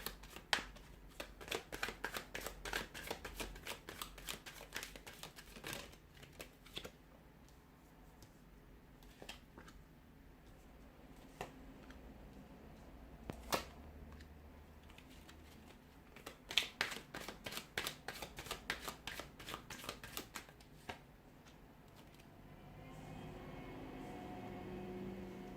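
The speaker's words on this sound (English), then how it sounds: "So we'll give the cards a shuffle here" Tarot cards shuffled by hand in repeated bursts of crisp riffling clicks and flutters, close and fairly quiet, separated by softer handling and pauses, with no talking.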